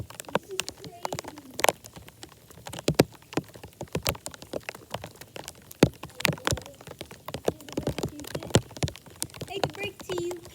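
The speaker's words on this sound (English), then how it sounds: "Bro, it's literally raining." Outdoors, rain falls in scattered sharp taps and drops hitting a surface, irregular close clicks over a faint hiss, with people talking intermittently.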